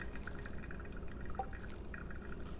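Water is poured over Geisha coffee in a pour-over brewer, making a soft, faint trickle with a few small drips, steady and quiet throughout.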